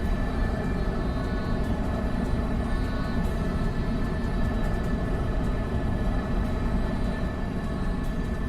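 Hawker jet engine in the X-Plane 12 flight simulator, a steady broadband roar with a constant whine, unchanging and continuous throughout.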